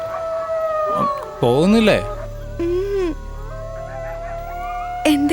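Jackals howling in a film scene, rising and falling wavering cries that overlap and repeat, with a voice speaking between them.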